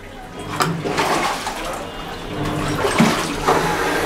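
Water rushes and gurgles through the drain pipe of a Singer SWM97108X washing machine under repair, a steady broadband flow with a few sharper splashes, fairly close and continuous.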